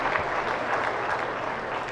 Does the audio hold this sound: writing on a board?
no